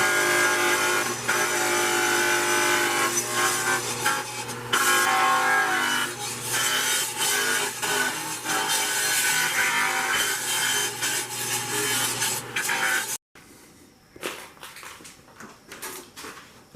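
A dull blade scrapes and cuts through a plastic plate, sped up, giving a loud, dense, rapid rasping that keeps going for most of the stretch before stopping abruptly, followed by quieter scattered scrapes.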